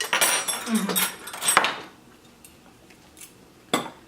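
Metal utensils clinking and scraping against a plate while digging into rice at a vegan Thanksgiving meal, a cluster of close clatters at the start and a sharp clink near the end, with some voice mixed in.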